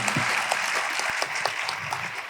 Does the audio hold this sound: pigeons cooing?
no